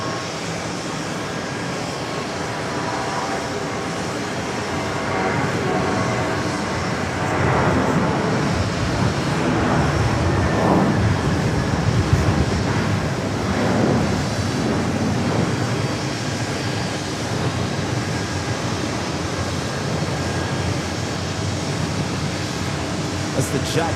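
A JetBlue Airbus A320 rumbles at JFK airport, a steady, moderately loud jet roar that holds throughout with a slight swell midway.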